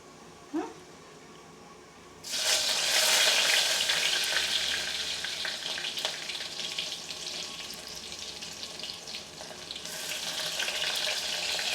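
Garlic and curry leaves drop into hot oil for a Malvani clam dish, setting off a sudden loud, hissing sizzle that fills the space and stays strong and steady, with a brief knock just before.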